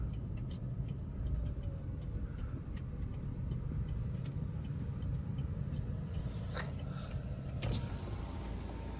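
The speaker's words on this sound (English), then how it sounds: "this car will top out at 90 going down the straight" An electric car running fast down the straight of a race track, a steady low road and motor rumble with faint clicks and ticks from inside the cabin.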